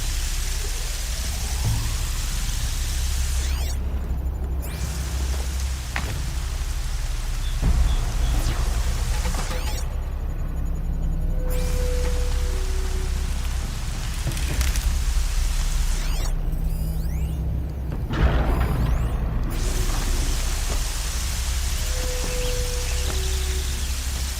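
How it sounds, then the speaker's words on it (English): Steady rain falling in the video game Horizon Zero Dawn, a dense continuous hiss that holds for the full length with a low rumble underneath and brief changes in texture, loud and even with no talking. "More rain. My boots will get damp."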